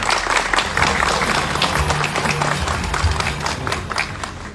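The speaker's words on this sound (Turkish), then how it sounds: "Alkışlarınızla lütfen." A crowd at an İYİ Party candidacy announcement in Ortaca applauds as a mayoral hopeful is called to the podium. The clapping is thick and steady, with crowd murmur and a few voices beneath it.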